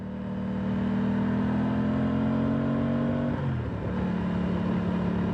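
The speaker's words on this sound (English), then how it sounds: "Just running the engine in gently." A brand-new motorcycle being ridden gently to run in its engine, a steady droning engine tone that holds level, dips briefly as the revs change, then settles again, close and continuous with no talk.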